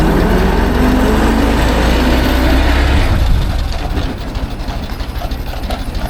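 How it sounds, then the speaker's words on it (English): A Ford Model T running on a ride at Greenfield Village gives a loud, close, low engine rumble with mechanical rattling, then eases to a quieter, choppier chug near the end. "Welcome to the Model T ride at Greenfield Village."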